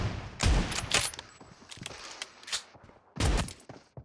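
Gunfire in PUBG Mobile cracks out in several short, punchy bursts at moderate distance, separated by brief gaps with light rustling and clicks between them.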